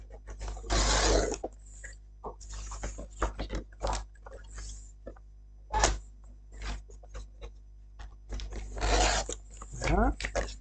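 Scissors cutting squares of decorative paper for a handmade card: close snipping and rasping strokes in irregular bursts, with some brief handling noises between cuts.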